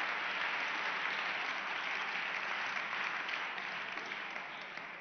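Steady, dense applause from an audience at a feminist politics panel in Valencia, loud and even for the whole stretch, with no voices rising above it.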